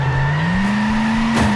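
Vehicle wheel spin in Turbo Dismount, a continuous engine whine rising slightly in pitch with a sustained tire squeal, loud and close, with a brief scrape near the end.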